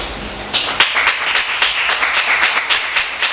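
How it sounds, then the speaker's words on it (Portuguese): Congregation clapping in an evangelical church service, a fairly loud, busy patter of hands from the assembled worshippers that keeps up throughout, with a few sharper claps standing out and no talk over it. "Pode se assentar e aplaudir ao Senhor"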